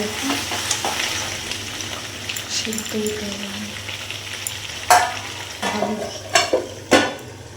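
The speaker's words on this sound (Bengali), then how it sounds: "এদিকে বিরিয়ানি মশলা মাংসটাকে কষাতে দিয়ে নিয়েছি" Meat cooks down in a pan with biryani masala, a close steady sizzle punctuated by spatula scrapes and sharper stirring knocks toward the end.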